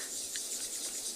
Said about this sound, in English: all the insects, all the cicadas, all the sorts of things going crazy